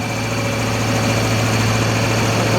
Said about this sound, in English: We're going to go ahead and increase the RPM to 3000